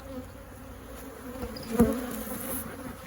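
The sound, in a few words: angry honeybees buzzing at an opened hive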